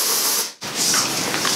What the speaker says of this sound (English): So I just kind of spray that wherever my hair needs